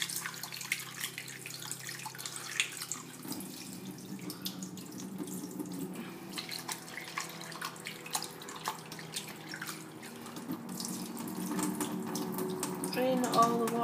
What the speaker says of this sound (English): I'm going to give it a rinse in the sink.